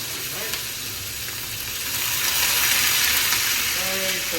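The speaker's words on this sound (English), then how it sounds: "sear these for about a minute on each side" Sous vide steaks sear in a hot pan with a dense, continuous sizzle that swells louder around the midpoint, plus a few faint clicks and clatters.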